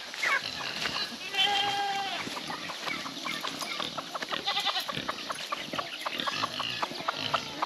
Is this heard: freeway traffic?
no